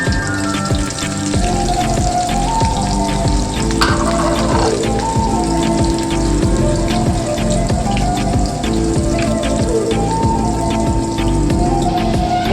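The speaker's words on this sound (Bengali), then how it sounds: "এখন আলুটা ভাজা হয়ে গেছে" Sliced potatoes seasoned with salt and turmeric sizzle in hot oil, a close, loud, even crackle with constant spattering and a brief brighter burst early on, with no one speaking.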